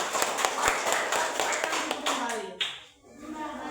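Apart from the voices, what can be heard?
classroom applause, children clapping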